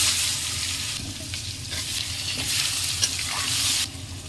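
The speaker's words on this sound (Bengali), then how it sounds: "এখন পটল আর আলুটা ভেজে নেব আগে পটলটা দিয়ে দেবো" Pointed gourd (potol) pieces fry in a pan with a loud, continuous sizzle and crackle, briefly stirred midway, then the hiss drops off near the end; no one speaks.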